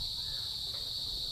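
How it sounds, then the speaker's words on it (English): A loud, continuous chorus of crickets chirps at night in Naga City in the Philippines, a steady high trill filling the whole stretch with no talk. "The crickets are really very loud."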